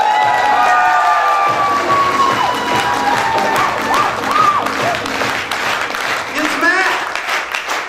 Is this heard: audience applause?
yes